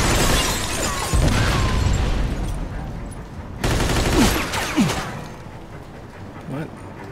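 Tommy gun bursts in the Mafia II video game, two loud rattling volleys of rapid shots separated by a lull, with shattering debris and a fading tail over game ambience.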